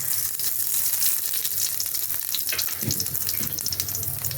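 Oil with nigella seeds sizzling and frying in a hot wok, a steady close crackling hiss that carries through the whole clip, with a few faint clinks and stirring sounds.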